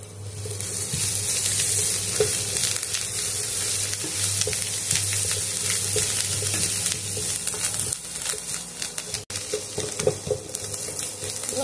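Egg bhujia with coriander leaves fries in oil, a loud, continuous close sizzle with a low steady hum underneath and occasional light scrapes of a spatula toward the end.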